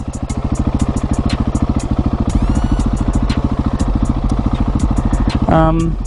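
A motorcycle engine roars close and loud while the rider pulls a wheelie on the road, a steady rapid pulsing drone that holds throughout and shifts pitch briefly near the end.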